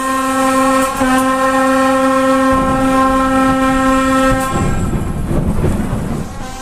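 A train collision, heard from the engineer's cab: a loud, sustained horn blares for several seconds, then gives way to a heavy, rumbling crash that fades toward the end.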